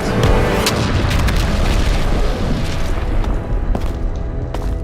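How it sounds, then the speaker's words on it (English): A cartoon explosion in an animated short sets off a loud, dense rumbling blast that fills the whole clip. Crackling debris bursts scatter through a sustained roar that thins slightly toward the end. "But then this explosion happens right here, and she gets stuck under some rubble."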